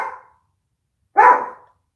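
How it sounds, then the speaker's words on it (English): Dogs barking in a backyard near a pond, two separate barks about a second apart, the second sharper and clearer, with silence between and no speech. "back there where the dogs are barking"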